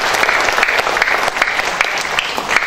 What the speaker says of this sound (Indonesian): kita berikan aplaus yang buat Bank Indonesia